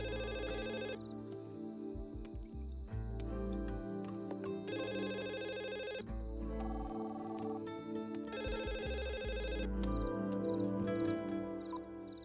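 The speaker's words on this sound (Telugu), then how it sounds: "ల్యాండ్ లైన్ ఫోన్ చేయన్నా" A landline telephone rings in repeated bursts of electronic ringing separated by short pauses, loud and clear for the whole stretch with no talk over it.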